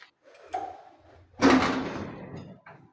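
An elevator's three-panel inner car door is slid upward by hand, giving one loud, broad scraping slide of metal panels that rises sharply and trails off over about a second, preceded by softer handling clatter.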